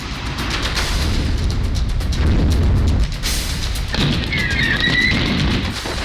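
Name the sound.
missile attack explosions, Onyx missile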